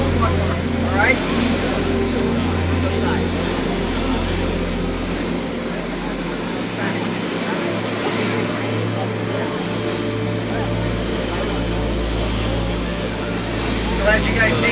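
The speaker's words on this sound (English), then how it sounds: "So as you guys see, the helicopter has landed." A loud, steady rumble of a landing helicopter at a mock wreck drill, rotor thrum filling the scene, dipping briefly before swelling again, as people speak over it.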